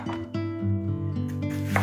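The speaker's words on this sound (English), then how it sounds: "Cut your tomatoes into chunks." A kitchen knife chops tomatoes into big chunks for a rustic salad, with a few crisp cuts against a board standing out over a tonal background hum.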